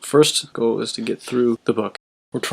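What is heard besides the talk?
No everyday noises stand out.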